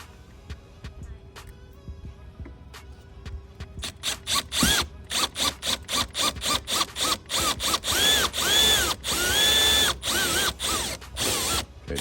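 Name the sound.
power drill drilling through fender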